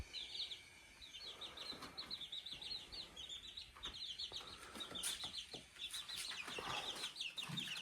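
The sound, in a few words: baby chicks chirping and clucking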